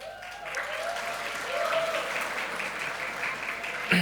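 Audience applause at an award ceremony, a steady patter of many hands clapping at moderate level for about four seconds with no voices over it.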